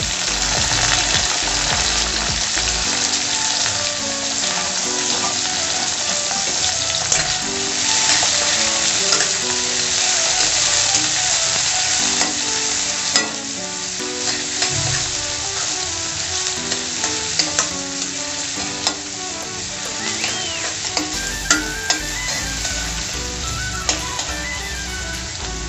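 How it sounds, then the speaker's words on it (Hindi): Onion, carrot and beans fry in hot oil with a steady, loud sizzle and stirring scrapes that run throughout, continuous and close with no talking. "सबसे पहले हमें फ्राई करना है प्याज, उसके बाद कैरेट, बीन्स,"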